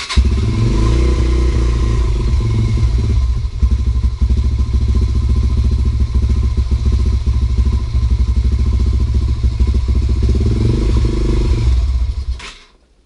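A Derbi 125 motorcycle engine idles low with the choke on, a steady, loud, close putter with an even rhythmic pulse that holds throughout, then cuts off abruptly at the end.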